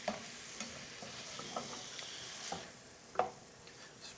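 Thinly sliced meat, not ribeye, frying on low heat with onions for a Philly cheesesteak, a quiet steady sizzle with occasional soft scrapes and stirring taps, no talking.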